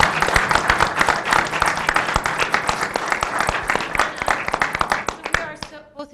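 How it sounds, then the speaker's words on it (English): A school board meeting audience applauds the Geography Bee winner, with dense, steady hand clapping that fills the room and thins out toward the end. "why don't you stand up so we can give you a round of applause?"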